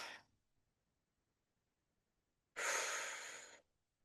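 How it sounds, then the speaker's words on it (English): A single deep, breathy exhale sounds close and clear after a quiet pause, following the tail of an earlier breath during a guided healing meditation. "Take a deep breath in"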